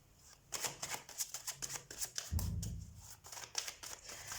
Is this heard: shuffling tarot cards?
yes